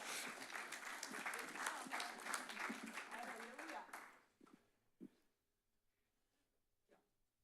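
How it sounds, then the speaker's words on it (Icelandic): Congregation clapping together for about four seconds, dense and fairly close, then breaking off abruptly into near silence with a few faint stray knocks and shuffles. "Og hvernig væri að gefa honum bara gott klapp."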